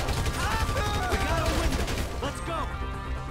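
Rapid gunfire rattles out in the video game GTA 5, bursts of shots layered over game noise and music at a moderate level.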